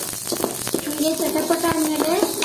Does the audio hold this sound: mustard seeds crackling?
yes